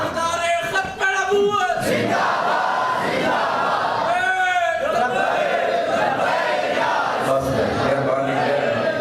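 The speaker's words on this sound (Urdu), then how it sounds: "یہ جو نعرے ہوتے ہیں بڑے پیارے ہوتے ہیں" A large crowd at a religious conference chants slogans in unison, loud and full-voiced, the shouted calls rising and falling in waves across the whole stretch.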